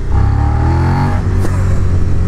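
Street motorcycle engine, a Yamaha R3 or Suzuki SV650, revving at low speed with a deep, throaty rumble that rises briefly and then settles, loud and close with no talk.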